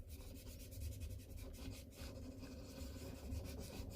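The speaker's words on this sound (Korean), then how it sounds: "면봉을 이용해서 부드럽게 전체적인 면을 만들어 줍니다" A cotton swab rubs over pencil shading on paper while a rose sketch is blended, giving a continuous soft scratchy rubbing that stays close and steady throughout, with no talking.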